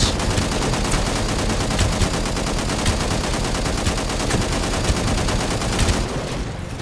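Sustained, rapid machine-gun fire from a mounted gun in the sci-fi shooter Angels Fall First, a loud, dense, unbroken burst lasting several seconds before tapering off at the end.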